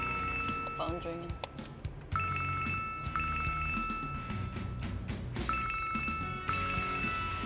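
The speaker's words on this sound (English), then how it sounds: "Phone's ringing." A telephone rings in repeated bright electronic trill bursts, four rings with short pauses between them, clear and close over a low background of music and room noise, with a voice talking over it.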